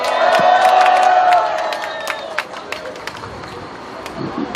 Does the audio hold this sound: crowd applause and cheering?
yes